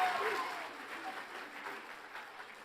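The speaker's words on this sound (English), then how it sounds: "Give yourselves a round of applause." Audience applause at an arts show awards ceremony and keynote on Long Island: a steady, dense wash of clapping from a sizeable crowd, moderately loud and sustained throughout.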